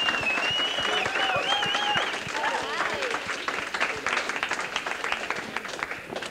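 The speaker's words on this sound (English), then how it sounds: "Let's have a round of applause, guys." An audience at a 1994 charity telethon breaks into applause that stays loud at first, then thins into scattered claps, while a raised voice and whoops carry over the start.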